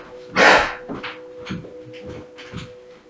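Dogs barking indoors during a home yoga session, one loud sharp bark followed by several softer yips and barks at irregular intervals, with a steady hum in the background.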